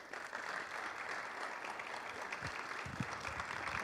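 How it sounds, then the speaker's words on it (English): An audience at a leadership talk gives sustained applause, a steady wash of many hands clapping, with a few faint low thumps near the end. "Give them a round of applause."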